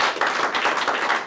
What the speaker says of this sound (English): So big round of applause for everybody.